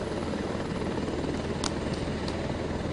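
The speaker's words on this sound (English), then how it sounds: "He was getting ready to take off from Johnstown in a helicopter" A presidential helicopter prepares to take off from Johnstown, its engine and rotor making a steady, loud broadband roar that fills the whole stretch, with a few faint higher clicks over it.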